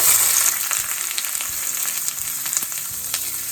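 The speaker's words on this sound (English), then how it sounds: "And add a little bit more oil. I'm gonna add my peppers" Bell peppers hit hot oil in a pan for a gluten-free Mongolian chicken stir fry, giving a steady, close, bright sizzle with small crackles and spits throughout, no voices.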